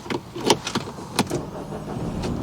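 An MG3 1.5L hatchback being switched on from inside the cabin: a few sharp clicks and brief electrical whirs, then a low steady hum settling in with no talking.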